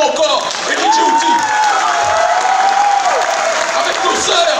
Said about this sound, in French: je vous demande de l'applaudir fortement encore